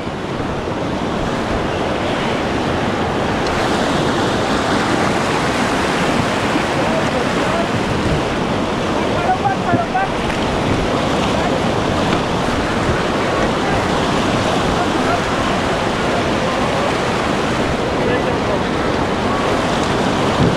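Rushing white water on a river in Nepal roars continuously from inside a raft, a dense broadband surge with wind buffeting the microphone and faint voices now and then.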